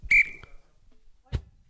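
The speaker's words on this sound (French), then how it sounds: "À chaque fois que je vais donner un petit coup de sifflet" A referee's whistle during an improv match: one sharp, loud, short blast at the start, followed by faint knocks and rustles.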